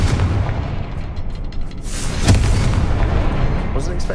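Booming blasts from the Confringo fire spell in the Hogwarts Legacy video game, dense rumbling explosions layered over a continuous game soundscape.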